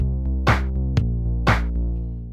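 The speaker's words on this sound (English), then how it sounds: "put a clap on everything, and it'll sound like this." Synthwave beat built in Reaper, with a bright clap landing on every beat over a steady sustained synth bed; two loud broadband clap bursts and smaller hits repeat in a regular pulse, with no voices.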